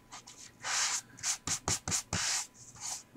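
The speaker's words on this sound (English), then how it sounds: "let's sand this first before we forget" Close-up rhythmic hand sanding, a series of short rasping strokes of varying length with brief pauses between them.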